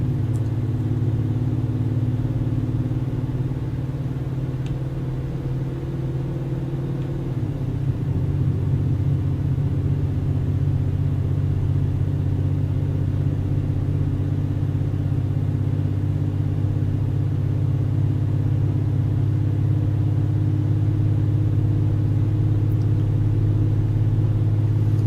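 Truck driving along a road in Euro Truck Simulator 2, a steady loud low engine drone and road rumble that continues unbroken, with a slight shift in pitch partway through and no talking.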